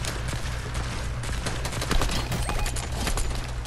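Gunshots in the Fortnite video game, a rapid cluster of sharp bursts firing over a low background hum, moderately quiet and unbroken by talking.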